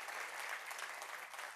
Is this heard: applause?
yes